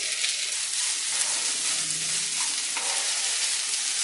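Sabudana khichdi ingredients frying in oil in a pan, a steady close sizzle with scraping stirring strokes running through it and no talking.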